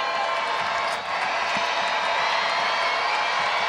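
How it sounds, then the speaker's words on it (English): A WNBA arena crowd at an Indiana Fever versus Minnesota Lynx game roars and screams in a steady, loud wash of cheering that fills the whole moment without a break. "The Lynx fans are screaming, too."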